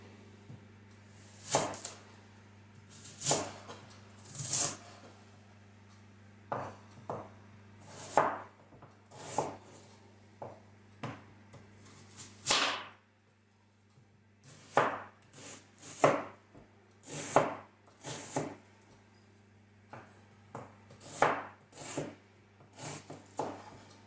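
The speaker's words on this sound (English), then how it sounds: "So now I'm going to chop up the onion." Knife chopping onion on a board, with sweet pepper nearby, for chickpea moi moi: irregular bursts of close, crisp chops in uneven clusters with short pauses, over a steady low hum.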